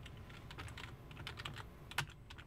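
Quiet, rapid clicking of a computer keyboard during a game session, uneven keystrokes tapping steadily at close range with no talk over them.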